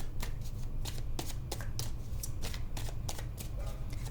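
A deck of tarot cards is riffled and shuffled up close in quick, crisp bursts of flicking paper, repeated rhythmically over a steady low background hum, with no voices.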